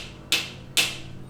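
Two crisp knocks, roughly half a second apart, sound close and distinct against near silence during an escape-room style tabletop role-playing game.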